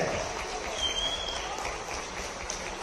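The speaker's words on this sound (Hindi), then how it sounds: "देवियों सज्जनों तालियां बजती रहनी चाहिए" A crowd applauds the chief minister at a public event, a steady wash of clapping that holds evenly for the whole stretch, with faint voices beneath.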